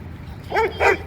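Dogs at a dog park, an Old English Sheepdog and a Pit Bull mix, give two short, close, fairly loud whiny barks in quick succession over quiet background noise.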